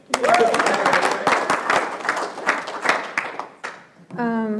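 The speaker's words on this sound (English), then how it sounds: "Let's clap for Thea." A small crowd at an Alcoholics Anonymous young people's panel meeting claps in a dense burst of applause for several seconds, fading out, followed by a brief tonal sound at the end.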